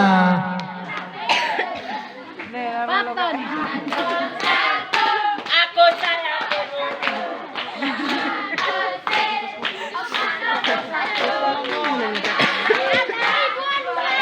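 An audience at a school event claps for supporters of candidate pair number one. The hand claps are close, loud and uneven, scattered among chatter and voices speaking throughout.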